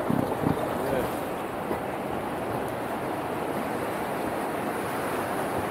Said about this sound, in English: So we are entering what we call entrance rapid